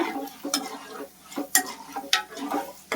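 Urad dal and ingredients for tamarind chutney fry in hot oil with a soft sizzle, broken by several sharp ticks and scrapes of a spoon stirring the pan, close and without talk.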